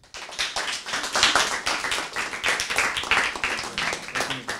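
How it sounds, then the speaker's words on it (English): A crowd claps for a speaker at an art talk, dense and lively applause that holds steady for several seconds, close and fairly loud. "So please give a round of applause for Justin Jenkins."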